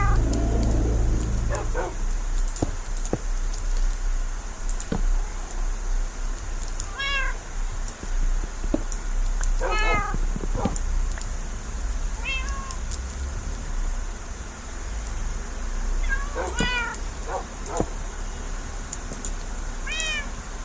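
Several cats meow intermittently in Minecraft, over a constant electronic hum, with occasional sharp clicks between the calls.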